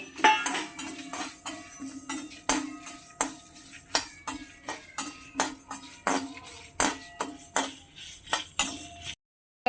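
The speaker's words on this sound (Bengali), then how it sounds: "চচ্চর পরপর আওয়াজ হচ্ছে তার মানে এই সর্ষে আর জোয়ানের ভাজা হয়ে গেছে" Mustard seeds and ajwain crackle and rattle in a dry metal pan, with steady rhythmic clinks and scrapes of stirring repeating close by, then stopping abruptly.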